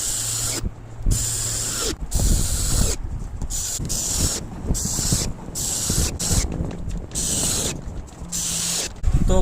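Screws being driven into the cabinet of a tower woofer speaker during repair, a series of short hissing, scraping bursts separated by brief pauses, close and fairly loud, with no speech.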